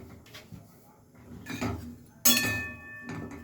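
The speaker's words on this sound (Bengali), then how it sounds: "তেল ঘি না দিয়ে একটু নেড়ে নেব।" Bread pieces are dry-toasted in a hot wok without oil or ghee, stirred with a spatula that gives scattered scrapes and clinks, with a sharp metallic knock near the end.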